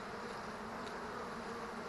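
Dense swarm of honey bees from a package being gently brushed into a hive, a steady close buzzing drone that holds evenly throughout.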